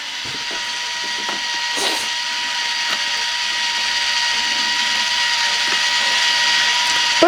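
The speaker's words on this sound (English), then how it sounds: "So I'll put a little motor on there, and we'll run that in a minute so you can have a quick look." A small motor drives the geared mechanism of a Ugears laser-cut plywood mini helicopter kit, producing a steady whirring hum with fine ratcheting clicks, close and continuous.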